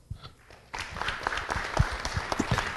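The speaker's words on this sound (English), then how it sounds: "Round of applause." A crowd at a city council regular meeting breaks into steady applause, many hands clapping together in a dense, sustained burst.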